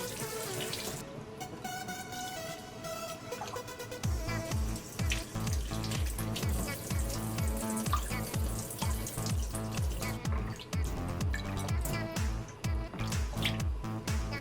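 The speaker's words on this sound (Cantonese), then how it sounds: "咁啲肉咧我就攞碗水去洗一洗啦" Lobster meat being rinsed by hand in a bowl of water in a home kitchen, with repeated sloshing and splashing in a steady rhythm, close and moderately loud.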